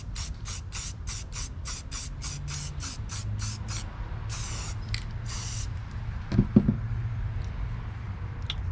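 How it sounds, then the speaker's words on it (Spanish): An aerosol spray can paints all around a chrome part: a quick run of about a dozen short, evenly spaced hissing bursts, then a few longer sprays, followed by faint clicks and handling noises. "Ahora lo vamos a pintar todo alrededor."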